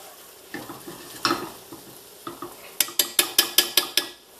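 Scrambled eggs and lobster fry in a pan with a low sizzle and scattered stirring scrapes, ending in a quick, even run of about eight metallic taps of a utensil against the pan.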